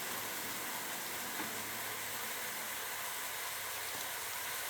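Minced beef frying in a pan, a steady, even sizzle and hiss like light rain, continuous and fairly soft, with no talking.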